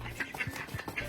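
A duck quacks in a few short, nasal bursts spread across a second, close by and moderately loud over a faint background hum.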